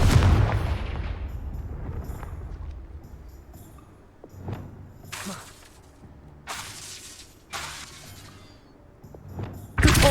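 Confringo spell explosions in Hogwarts Legacy VR begin with a loud booming blast, followed by several sharp crackling bursts and thuds spaced a few seconds apart, then another heavy hit at the end.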